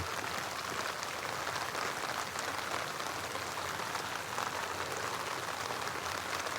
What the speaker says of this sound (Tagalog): Ay, umulan na.